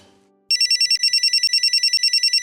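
A telephone ringing loudly and close, its electronic ringtone pulsing in a fast steady rhythm of short repeated bursts with a brief break, following a faint fading tone.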